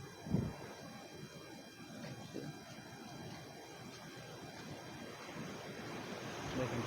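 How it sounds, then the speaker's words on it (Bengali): Roaring sea surf along the shore at Colombo, Sri Lanka, a steady rumbling wash of breaking waves with wind noise, one louder surge near the start, and faint voices in the background. "সমুদ্রে কি গর্জন"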